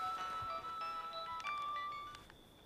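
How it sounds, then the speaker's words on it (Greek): A phone's electronic ringtone plays a short melodic tone pattern, fairly faint, with no talking. "Το κινητό σου είναι αυτό?"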